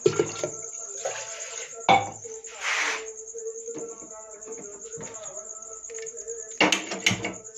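Water pours briefly into a pot for tea amid kitchen clatter, while a steady high-pitched whine like an insect hums throughout.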